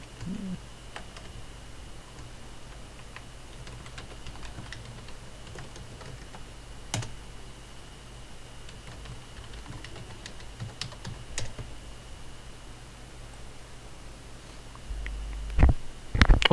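Someone types a Gmail address on a computer keyboard in sparse, quiet key taps spread over a long stretch, with a louder cluster of clicks near the end and no talking.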